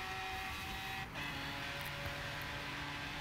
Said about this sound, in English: racing the Dodge Dart versus the Porsche, and here we go